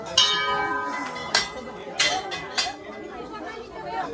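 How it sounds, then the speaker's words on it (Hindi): Dense crowd chatter at a busy Uttarakhand hill temple where devotees offer many bells, with several bright bell strikes ringing out over the voices, a few seconds apart. "ये देखो घंटी, कितनी भीड़ है भाई"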